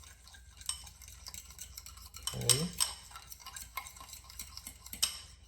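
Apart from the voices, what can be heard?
stirring carbonara pasta mixture in a pan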